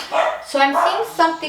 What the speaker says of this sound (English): oh, I'm sorry if you hear the dog barking